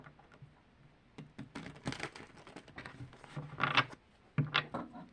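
Someone shuffles a deck of tarot cards by hand in an unusual way, giving soft, close, irregular riffling and slapping rustles with a few louder bursts and no talk.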